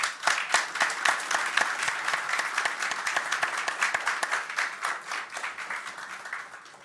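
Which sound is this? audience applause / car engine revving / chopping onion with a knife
audience applause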